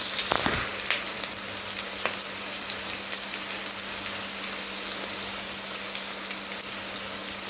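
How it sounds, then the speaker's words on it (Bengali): Carrots tossed into hot oil over green chillies for a vegetarian dal sizzle in a steady, close, loud hiss, with a brief stir at the start and no talking. "এখন দিয়ে দেবো গাজর"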